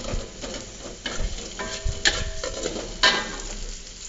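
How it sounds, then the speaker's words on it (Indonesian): Crushed, chopped garlic and shallots are stir-fried in a little oil in a wok, giving a soft sizzle under scraping and stirring, with occasional clinks of the utensil against the pan. "di atas wajan ya, dengan 1 siung bawang putih dan bawang merah geprek cincang. Kita oseng-oseng dulu"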